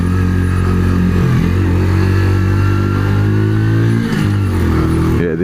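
Small Mash Roadstar 50 motorcycle being ridden, its engine droning loud and steady close to the microphone with a brief throttle dip and pitch change partway through, no talk heard.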